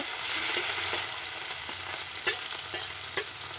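Onion, coconut, ginger and garlic fry in oil for a Telugu fish curry, giving a steady close sizzle with a few sharp crackles and stirring scrapes scattered through it.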